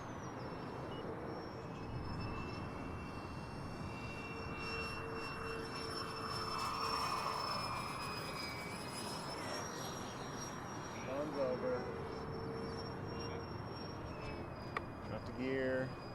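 A twin 70mm electric ducted fan model jet, the Xfly J65 bizjet, whines steadily overhead during a landing approach with gear and flaps lowered, a continuous high-pitched fan tone over wind and outdoor noise, with people talking nearby.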